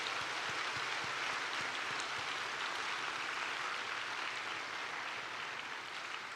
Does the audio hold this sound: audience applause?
yes